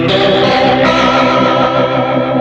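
Guitar played through a Leslie rotary speaker simulation set for a strong Doppler shift, a sustained warbling chord that swirls and wobbles in pitch, loud and close without any talking.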